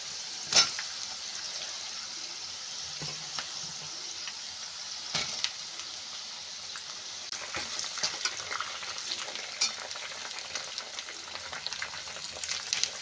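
Sliced onions and green chillies sizzle steadily in a hot pan, a constant frying hiss with occasional stirring clicks and soft pops, close and moderately loud with no talking.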